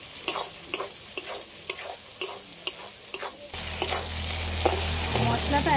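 Spiced masala for chicken kosha with meat and yogurt frying in oil in a pan, sharp repeated scraping strokes of a spatula stirring, then a louder steady sizzle rising as the stirring continues, close up.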